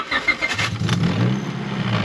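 An abandoned Honda Civic engine cranks and fires for the first time since 2006, catching quickly and revving up, loud and close, settling into a steady running tone.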